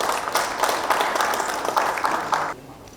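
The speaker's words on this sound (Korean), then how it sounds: "큰 박수로 환영해 주시기 바랍니다." An audience at a small modular reactor national industrial complex briefing and signing ceremony claps steadily in welcome, a dense wash of applause that holds for about two and a half seconds and then stops abruptly.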